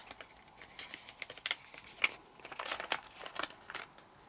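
Paper is folded and creased for an origami light switch, with close, faint crinkles and soft sharp taps scattered irregularly, busier near the end, and no voices.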